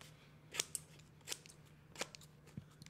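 Scissors snip through card while cutting out a circle, with about four short crisp cuts spaced roughly a second apart over a faint steady hum, close and fairly quiet.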